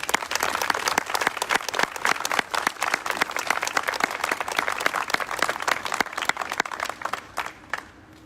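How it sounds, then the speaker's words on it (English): Audience at a Veterans Day ceremony applauding a joint color guard and ensemble, a dense, sustained wash of many hands that fades away near the end. "giving them a round of applause"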